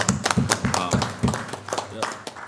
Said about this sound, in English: I think we should all just give Jay a round of applause